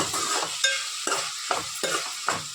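Ginger garlic paste fries in a pan with a bright, steady sizzle as a spoon scrapes through it in four or five regular stirring strokes.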